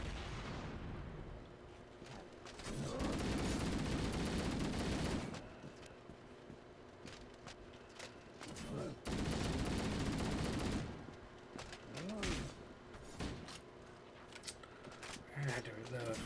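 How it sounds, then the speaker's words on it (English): Rapid bursts of video game gunfire and explosions come in two long, loud stretches, with scattered shots and impacts between them and a voice talking at times. "Who the heck is shooting at me?"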